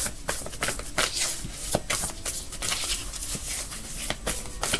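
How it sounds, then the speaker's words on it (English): A deck of tarot cards is shuffled close up, the cards riffling and slapping in quick, uneven bursts for the whole stretch, with no voice over them. "I don't know what made me shuffle this deck"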